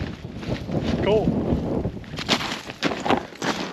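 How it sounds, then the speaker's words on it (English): Strong wind blows over a frozen lake during a below-zero winter camping and ice fishing trip, a loud, rough buffeting roar against the microphone with a person talking over it. "it's getting nasty and windy and ripping out here."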